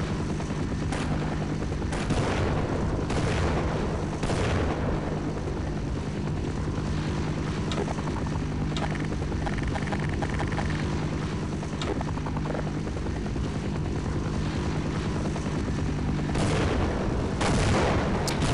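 Rapid bursts of gunfire crack over a constant engine-like drone in the game Half-Life, with a heavy volley near the end.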